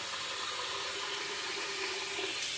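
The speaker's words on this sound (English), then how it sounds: "I'm just going to run water. I'm just going to fill up that bowl." Tap water runs steadily into a shaving bowl, a continuous broadband hiss of pouring water, quiet and close, with no voices.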